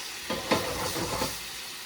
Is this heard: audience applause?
no